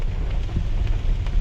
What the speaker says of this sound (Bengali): প্রচণ্ড বৃষ্টি আজকে হচ্ছে গাজীপুরে আমাদের এদিকে